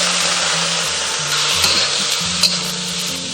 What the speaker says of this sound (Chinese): 炒出香味以后，我们沿锅边喷2颗米酒进下